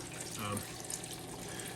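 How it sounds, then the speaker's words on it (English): Water streams steadily over the evaporator plate of a Manitowoc commercial ice machine during cleaning, a soft, continuous trickle and splash heard up close, with a voice talking over it. "You can see the water is going over the evaporator."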